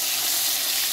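Fish frying in hot oil, a steady bright sizzle and hiss that runs evenly throughout without any talk.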